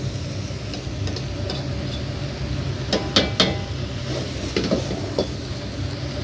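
Green onions and sliced onions are stir-fried in a wok for Sichuan-style jajang, metal utensils clattering and scraping against the pan in irregular bursts, with a few sharper clanks midway and no voice.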